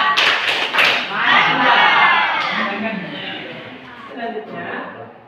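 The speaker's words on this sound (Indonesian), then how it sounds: "Berikan tepuk salut untuk kelompok 2" A classroom group gives a round of applause and cheers for a presenting student group, a crowd of claps and voices blending into a loud, steady wash with some shouting over it.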